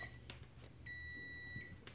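A digital multimeter set to continuity mode gives a steady electronic beep, lasting about a second, as its probes bridge the element of a Lorenzetti ACQUA electric shower heater. The tone is moderately loud and sounds over faint room noise.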